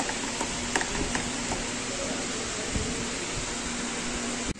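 A blender whirs steadily, blending raw mango sherbet: a loud, close, continuous mechanical drone with faint rattles, cutting off abruptly at the end.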